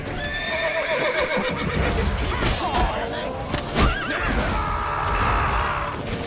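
In The Witcher 3: Wild Hunt, a horse neighs and whinnies loudly amid galloping hooves and chaotic action sounds, with shouted voices breaking in over the commotion.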